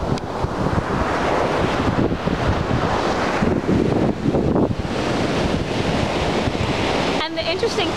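Ocean surf on a shoreline as the tide goes out, with waves rushing and splashing in continuous loud washes, mixed with gusty wind buffeting the microphone.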